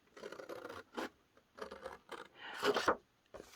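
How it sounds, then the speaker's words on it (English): Scissors snip through paper for a digital-kit craft project, several short scraping cuts in separate bursts with brief pauses, close and moderately loud. "But I will just use my scissors,"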